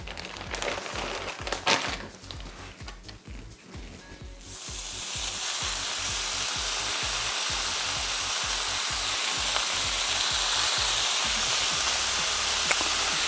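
Bacon strips laid into a hot pan, a few seconds of scraping and clatter, then a loud, continuous, close-up sizzle that stays steady without talk.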